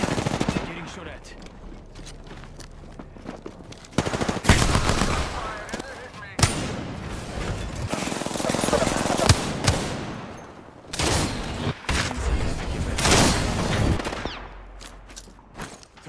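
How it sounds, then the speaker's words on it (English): Bursts of video game gunfire crackle through a shooter match, broad rapid shots and fusillades recurring across the clip, loud and close, with shouted callouts occasionally mixed in. "Getting shot at."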